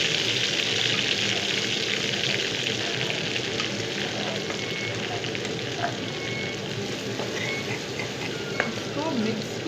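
Garlic spinach sizzles and crackles in hot oil in a pan while being stirred, a steady bright frying hiss with scattered scraping and clinking sounds from the spoon throughout.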